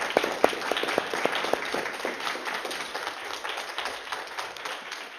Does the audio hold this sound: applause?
yes